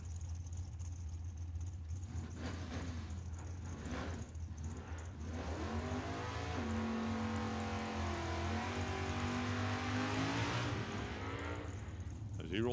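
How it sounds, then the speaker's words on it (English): Camaro drag car rolling forward at Tucson Dragway, a deep rumbling engine idling and then revving louder with rising pitch, while an announcer talks over it. "As he rolls forward with the Camaro."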